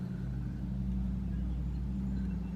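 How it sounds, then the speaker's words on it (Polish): A car drives by on a quiet summer evening in a calm Canadian neighbourhood, a steady low engine rumble holding at the same level for the whole stretch. "Teraz akurat taki samochód jedzie."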